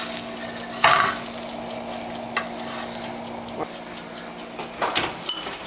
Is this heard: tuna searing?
yes